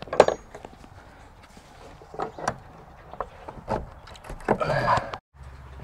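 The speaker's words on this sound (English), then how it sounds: "Get the door shut." The door of an animal trailer is pushed shut, producing several sharp metallic clanks and knocks spread over a few seconds, the loudest near the start and toward the end.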